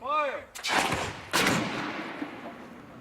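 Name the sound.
2x4 lumber fired at 73 mph into a structure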